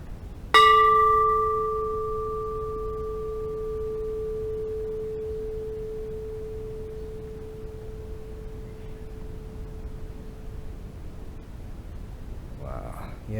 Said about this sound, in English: I just struck it with my knuckles